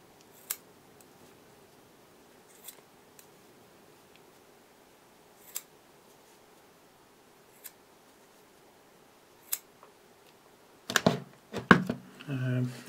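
Scissors snipping synthetic wool into small pieces for fly-tying dubbing, giving sparse single crisp cuts every second or two, close and quiet, followed by a quick cluster of snips and rustling.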